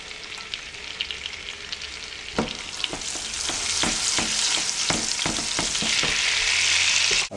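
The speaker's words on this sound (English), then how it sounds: "we're going to take 2 tablespoons of butter and about 3 tablespoons of olive oil, and we're going to gently fry the garlic" Garlic gently frying in butter and olive oil makes a close, crackling sizzle that grows louder and denser, with sharp pops and spatters throughout and no talking.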